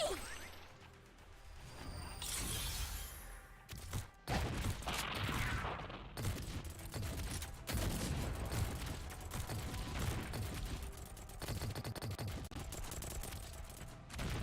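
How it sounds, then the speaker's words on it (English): Beam attacks from enemies in the mobile game Girls Frontline fill the mix with dense whooshing blasts, crashes and mechanical clatter that layer continuously over a busy background. "Yeah, they do shoot the beams."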